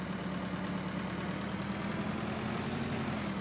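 A tractor engine idles in Farming Simulator 2013, a steady, continuous low drone with a constant hum, loud and unchanging, with no speech over it.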